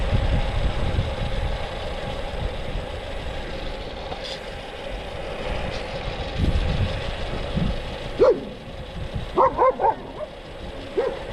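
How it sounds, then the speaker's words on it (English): A dog barks a few times in short bursts toward the end, over a steady engine-like rumble and wind noise from a moving Brompton electric bicycle. "And the dog wasn't happy with me."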